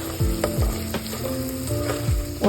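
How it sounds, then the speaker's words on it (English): Onions cooking with browned meat for tacos, a steady close sizzle with repeated scraping stirs and low thuds in an irregular rhythm, no voices. "Now we're going to put our onions inside so that they can cook and add some flavor."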